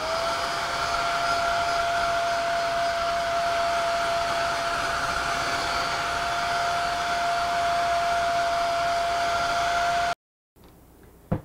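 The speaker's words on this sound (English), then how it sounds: "put the hair dryer on it." A hair dryer blows steadily on freshly grouted mosaic tile, a loud, even whir with a constant tonal whine that runs unchanged for about ten seconds, then cuts off abruptly.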